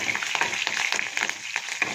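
Curry leaves and green chilies sizzle as they sauté in a hot pan for coconut rice, a steady close frying hiss with small crackling pops throughout and no talk.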